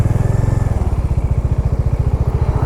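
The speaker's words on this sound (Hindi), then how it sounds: "so now I will start the bike" A Bajaj Dominar 400 motorcycle engine running close and loud, thumping in a fast, even rhythm throughout.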